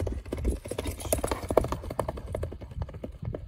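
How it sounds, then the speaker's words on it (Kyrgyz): A black racehorse gallops with rapid, rhythmic hoofbeats that are steady and fairly close throughout, with no voices over them. "Чаап көрөлү бул атты."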